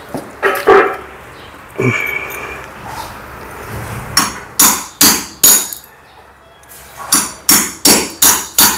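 Hammer strikes on a chisel chip into a masonry wall while fitting a new electrical utility box, at first scattered among scraping and clinks, then a steady run of sharp, loud, evenly spaced metallic blows close by.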